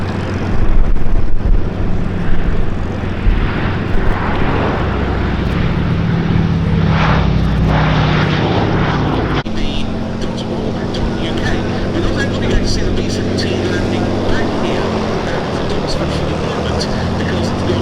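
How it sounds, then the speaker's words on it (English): Sally B, a vintage aircraft, roars past on its final display pass at the Duxford summer air show, a loud sustained engine drone swelling and fading as a commentator talks over it. "we pay tribute with the final pass of this display by Sally B"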